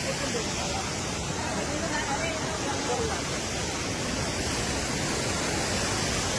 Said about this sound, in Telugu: ego water fall